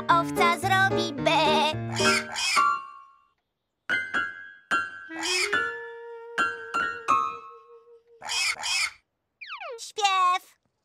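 A voice imitates a sheep's bleat amid sung phrases and clinking tones, with a drawn-out wavering "baa" in the middle.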